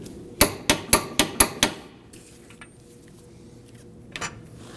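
Six sharp metallic hammer-and-chisel strikes on the front axle nut of a 2013-2015 Subaru XV Crosstrek ring out close by in a fast, even rhythm, followed by quiet and one fainter clink near the end.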